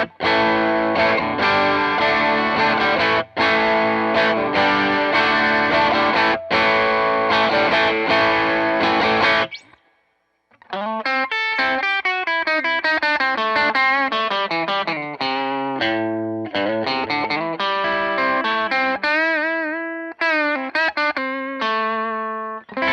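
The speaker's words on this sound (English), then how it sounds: "let's kick the pedal on." Electric guitar through a Wampler Moxie overdrive pedal, first dense driven strumming, then after a brief pause a run of distorted single-note riffs and bends, loud and close with no talking.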